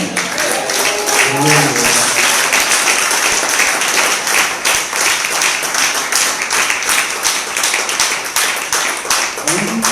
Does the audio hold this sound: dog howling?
no